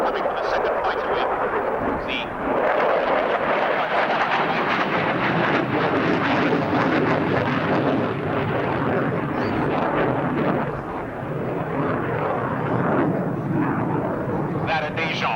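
A military aircraft flying a display at the 1990 RAF Abingdon airshow roars steadily overhead, a broad sustained engine rush that lasts the whole stretch while an announcer talks over it.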